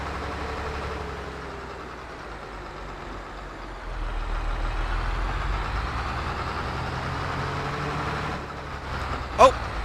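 Case IH MXM 190 tractor driving in Farming Simulator 22, a steady low engine drone that swells slightly in loudness partway through, with a brief sharp clack near the end.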